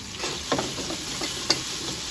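Chicken for piccata browns in a hot pan, a low even sizzle with two brief stirring scrapes and a faint high whine above, close and without speech.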